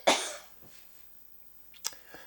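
A single loud cough bursts out close by, followed by quiet and then a short, softer throat sound near the end.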